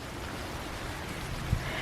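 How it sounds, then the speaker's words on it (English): Monsoon rain falls steadily on a garden, a dense, even hiss of drops close by with one brief louder patter near the end and no voices. "everything is going to be refreshed by the natural rain coming down"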